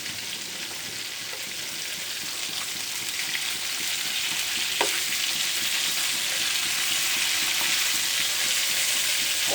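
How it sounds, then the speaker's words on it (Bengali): Loud, steady sizzling of fish frying in hot oil, a continuous crackling hiss that swells slightly toward the end. "খুব সুন্দর করে ফিস ফ্রাই করে নিচ্ছি"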